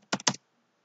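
A few quick keystrokes on a computer keyboard, two close, crisp clicks in rapid succession, faint and isolated in an otherwise quiet room.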